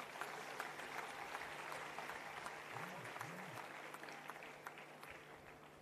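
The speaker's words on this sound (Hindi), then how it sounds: "इस बात पर सबको तालियां बजानी चाहिए।" A crowd at a Patanjali Yogpeeth event in Uttarakhand claps at some distance, a faint, steady patter with a few sharper claps and a low hum underneath.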